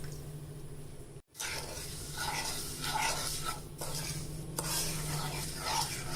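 Sugar and water being stirred in a kadai on the stove for ginger candy, a steady scraping and light sizzling that runs close and continuous with a few brief clinks.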